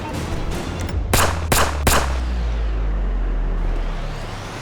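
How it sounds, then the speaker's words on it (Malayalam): Three sharp gunshots crack in quick succession in GTA 5 Online, each a brief loud burst over a steady low engine-like rumble that continues after the firing stops. "അയ്യോ, വെടിവെക്കുന്നു"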